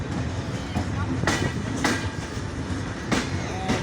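The Chilahati Express rolls through Dhaka Airport railway station, its close carriage rumble broken by repeated rhythmic wheel clacks over rail joints.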